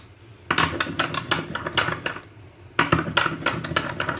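Cumin is ground by hand into a coarse powder, making close, gritty scraping and rattling in two busy bursts separated by a brief pause.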